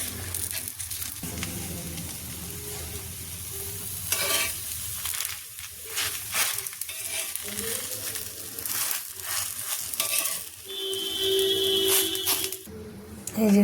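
Patishapta crepe batter cooking in a pan brushed with oil over a medium gas flame, soft continuous sizzling broken by scraping, stirring and rattling handling noises up close.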